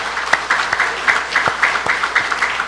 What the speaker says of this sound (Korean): 그렇게 하실 분만 박수로 하나님 경을 올립시다.